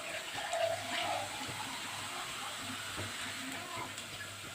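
Water is poured from a container onto rice and browned onions in a cooking pot, a soft, steady gushing splash that fades into a low, even hiss, with no voices.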